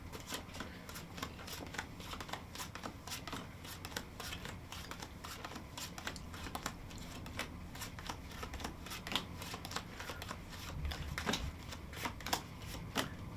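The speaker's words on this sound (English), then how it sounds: "deal these poker hands out again" Playing cards are dealt into poker hands on a table, giving a quiet, rapid run of soft flicks and light slaps that continues without speech for the whole stretch.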